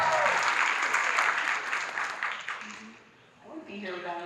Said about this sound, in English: Can we just clap it up for Brian Lee?